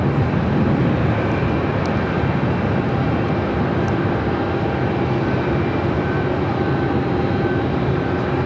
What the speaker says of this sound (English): looking like a Streamliner making that turn, heading now to the south side for a takeoff on the 25s